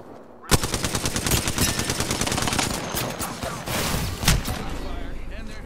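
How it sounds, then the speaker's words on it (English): Rapid automatic gunfire from an Apex Legends match, loud dense bursts of shots with a few heavier impacts, while a player talks over the fire. "I'm getting shot."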